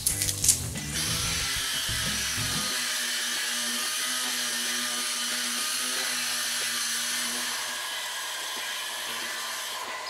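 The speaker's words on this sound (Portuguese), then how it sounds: "agora eu vou meter aqui uma roquite 150 para tirar o arranhão da lixa 80" A random orbital sander with a 150-grit disc works over the car paint on a Peugeot 207 roof with a steady high whirring hum. It is loud and continuous after a brief clatter at the start, with no talking.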